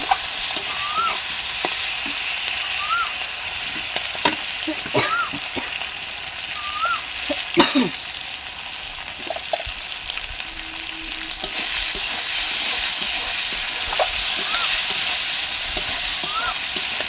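Ginger garlic paste sizzles steadily in a hot frying pan while a utensil stirs and scrapes it, with a constant bright hiss, irregular clinks throughout, and no talking.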